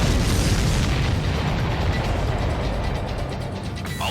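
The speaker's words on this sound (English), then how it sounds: "All of the missiles have been destroyed." Missiles blowing up in the Ace Combat 7 jet combat game, a dense, continuous rumbling roar of explosions filling the short stretch at steady high loudness, with no talk.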